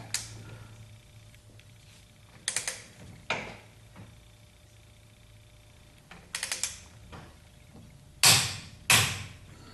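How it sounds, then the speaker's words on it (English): Torque wrench clicking as lug nuts are tightened to 75 foot-pounds on the Torque Thrust II wheels of a 1976 Corvette restomod, heard as several separate sharp clicks spread out, each standing alone. "I'm just going to hit these with the torque wrench at 75 foot-pounds"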